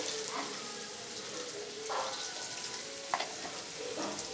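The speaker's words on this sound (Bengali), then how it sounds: "আলুগুলো লাল লাল করে ভাজা হয়ে গেছে" Potatoes fry in hot oil with a continuous crackling sizzle, broken by a few soft clinks of stirring.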